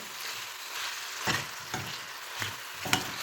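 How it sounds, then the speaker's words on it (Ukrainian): Chopped onion sizzling in a pan alongside chicken gizzards, a steady hiss of frying broken by four or five scraping stirs of a spoon, close and fairly loud with no voices. "І до готовності цибульки ще підсмажуємо"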